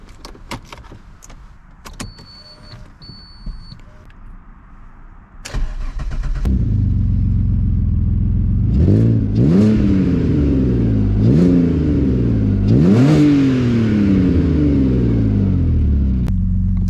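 Keys jingle and clicks sound before an Alfa Romeo GT 3.2 Busso V6 engine turns over and catches into a steady idle, followed by several sharp revs that rise and fall.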